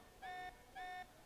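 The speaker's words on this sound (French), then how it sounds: "This alarm's worrying." Two-tone alarm in Xenoblade Chronicles 3, two sustained electronic honks of equal length separated by a short gap, faint and clear over quiet game ambience.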